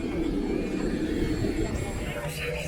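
A steady, loud engine drone fills a packed airliner cabin, while indistinct voices and chatter murmur underneath throughout.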